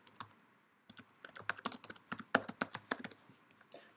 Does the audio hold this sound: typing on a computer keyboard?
yes